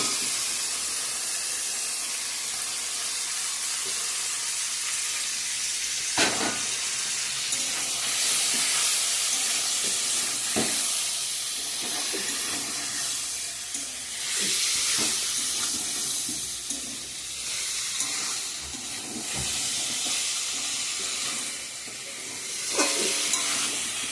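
Chicken cooks in fried spice masala for a chicken curry, a constant hiss and sizzle with occasional sharp clinks and scrapes of stirring.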